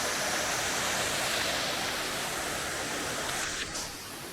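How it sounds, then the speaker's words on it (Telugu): Bhimuni Gundam waterfall, a deep forest falls dropping around 200 feet between hills, roars as a steady, loud, dense rush of falling water with no voices. "ఇది భీమునిగుండం వాటర్ ఫాల్"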